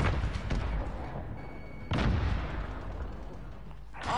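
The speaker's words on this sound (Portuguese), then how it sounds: "Granada lançada!" A grenade explodes in Call of Duty Modern Warfare on PS4, with heavy booming bursts and rumbling gunfire-like cracks, a sharp blast near the middle and another rising at the end.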